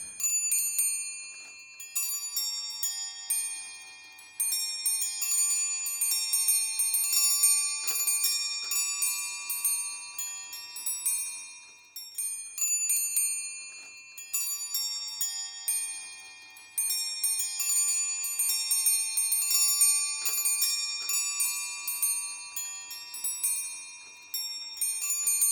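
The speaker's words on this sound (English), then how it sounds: "This clock is one of the most complicated automata in the collection." An antique automaton clock made for the Chinese imperial court runs and chimes, with bright, clear bell strikes ringing out in repeated melodic runs, pausing briefly and resuming, heard alone with no voices.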